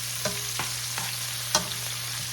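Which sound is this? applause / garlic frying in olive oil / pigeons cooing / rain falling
garlic frying in olive oil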